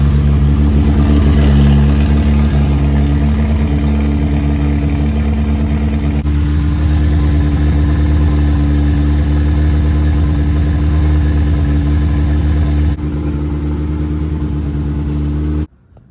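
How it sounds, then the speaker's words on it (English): A turbocharged 4G63 four-cylinder engine in a Mitsubishi Expo idles high and loud, a steady close rumble that runs unchanged for about fifteen seconds before cutting off abruptly. "So it's still idling high."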